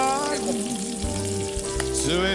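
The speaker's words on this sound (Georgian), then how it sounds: "და დავიწყებ ხახვის თუშვას." Onions sauté in a frying pan for ajapsandali, a steady close sizzle of frying under a loud tonal hum with shifting pitched sounds, with no talk.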